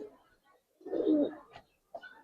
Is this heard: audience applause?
no